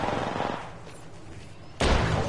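Gunfire in a PS4 multiplayer shooter, with loud bursts of shots at the start, a quieter pause, then a sudden heavy volley near the end.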